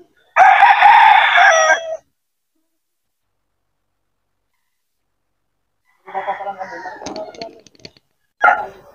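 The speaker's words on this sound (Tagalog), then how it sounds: "Ayan, may mga laman na manok." Gamefowl roosters crow at Mount Banahaw game farm, one loud close crow followed by silence, then more distant and overlapping crows with clucks.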